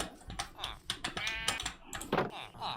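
Sheep in Minecraft give short wavering bleats, mixed with quick clicks of keyboard typing close by.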